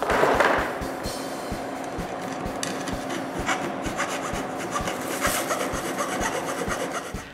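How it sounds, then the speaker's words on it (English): Metal is filed by hand with a rasping rhythm of repeated strokes, close and fairly loud, in a workshop setting, with no talk. "I finish the modification by filing the metal."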